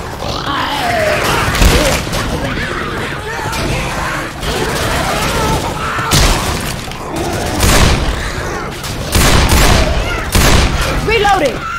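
Rapid gunfire and booming impacts from a Left 4 Dead 2 firefight on a City 17 map, loud bursts repeating throughout with voices talking over the shooting.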